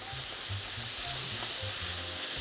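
Scallops sear in butter in a hot pan, giving a loud, continuous hissing sizzle with a low bubbling undertone, steady from start to finish.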